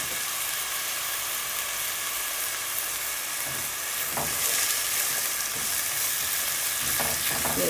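Chopped onions sizzle and fry steadily in a pan for a Bangladeshi chotpoti dish, with a continuous loud hiss, occasional stirring clatter and no talk.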